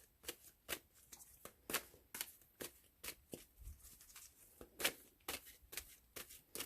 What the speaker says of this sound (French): Je vais aller voir quelques cartes, chacun avec cet oracle.